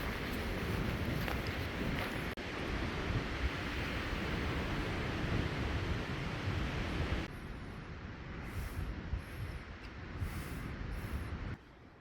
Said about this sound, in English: As altitude increased, I could tell it was getting more windy outside.